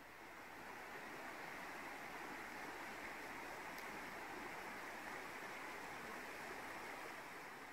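A waterfall cascade pours continuously, a steady, even broadband rush of falling water with no breaks, heard alone and fairly soft.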